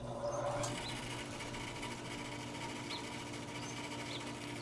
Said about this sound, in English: let's just go ahead and see if the machine turns on and how the blade runs